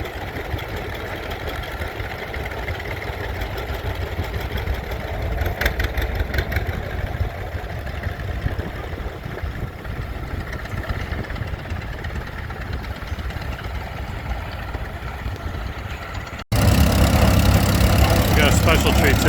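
A Caterpillar D6 crawler tractor idles at an old engine show, its diesel running in a steady, rough rumble with faint knocking, and a louder burst of wind or handling noise at the end.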